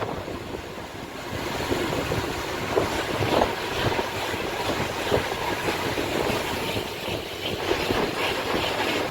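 A train rumbles steadily with a rushing, rattling roar and occasional clanks, loud and close, with no voices, at a crowded platform of Khed railway station.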